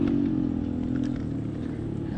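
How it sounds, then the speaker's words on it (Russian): Off-road mountain motorcycles ride near Lake Synevyr in the Zakarpattia Carpathians, producing a steady low engine drone at a moderate distance, with faint voices in the background. "А вон ездят мотоциклисты на горных мотоциклах, экстремалы."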